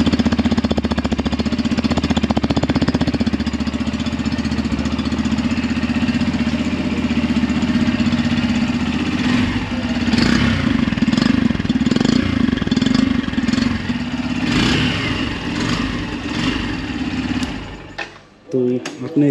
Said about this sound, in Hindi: आपने एग्जॉस्ट का नोट सुन लिया